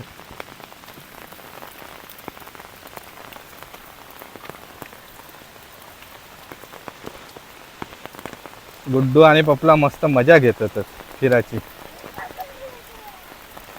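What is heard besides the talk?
heavy rain falling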